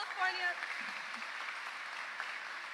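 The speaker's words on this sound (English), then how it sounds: "Let's give a big round of applause to the community organizations in the Long Beach Rising Coalition" An audience at a Long Beach community event applauds the local community organizations, a dense, even wash of clapping that follows a brief voice at the start and holds steady at moderate volume.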